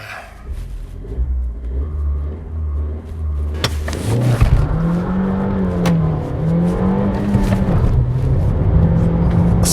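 A car with Suzuki's 1.4-litre turbocharged Boosterjet engine launches from rest: a low idling rumble first, then a loud surge of rising, wavering engine revs as it accelerates hard, close to the microphone.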